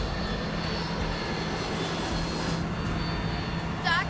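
A low-flying airplane in a dive roars steadily and loudly through the whole stretch, a sustained engine drone with a brief higher whine near the end.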